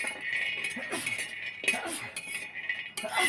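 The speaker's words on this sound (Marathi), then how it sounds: "पहिले मी शेंगदाणे भाजून घेते तव्यावरती" Peanuts are roasted and turned on a griddle, giving light metallic clinks and scrapes from a utensil that come in short, irregular bursts, close and fairly quiet.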